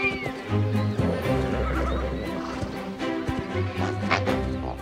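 Wild horses in Hungary whinny loudly and repeatedly, close by, as hooves thud and clip-clop beneath the calls.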